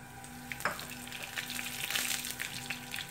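Cumin seeds, mustard seeds and curry leaves sizzle in hot oil in a small pan for a tadka, a steady loud fry with scattered pops and crackles throughout.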